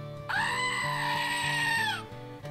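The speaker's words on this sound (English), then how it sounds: "Our little Juniper, the screaming goat" A goat lets out one long, loud, harmonic scream lasting nearly two seconds, close by, with faint low background sounds beneath it.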